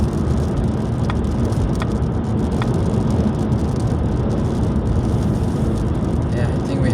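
Car cruising on a highway in the rain, with a steady broadband roar of wind and road noise and scattered faint ticks of raindrops throughout.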